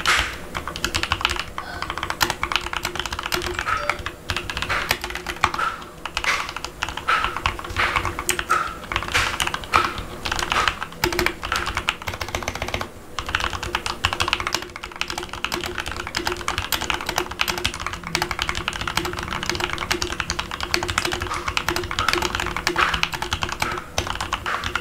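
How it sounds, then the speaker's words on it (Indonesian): Steady, continuous typing on a computer keyboard, recorded with a budget BM-800 microphone, close and clear, a busy run of key clicks and taps with no talking over it. "kita coba tes aja pakai keyboard aja ya"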